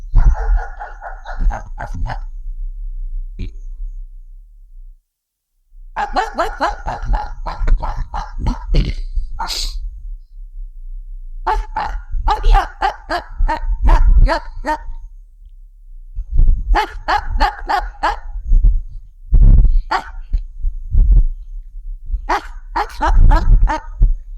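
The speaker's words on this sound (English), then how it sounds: "I'm in the neighborhood where there's a dog that will bark, so if you hear that, that's why." A neighborhood dog barks repeatedly in bursts across the clip, mid-distance and fairly loud, with short pauses between volleys and no talking over it.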